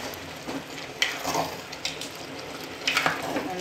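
A spoon stirs prawn aviyal in a pan, giving soft wet scraping and clinking strokes with occasional louder scrapes over a low simmering hiss, close and without talk.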